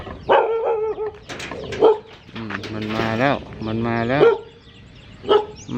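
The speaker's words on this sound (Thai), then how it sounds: "มาเห่าหนูทำไมอ่ะ" A dog barks and yelps in a few sharp, close bursts on an outdoor walk, alternating with a person speaking in the foreground.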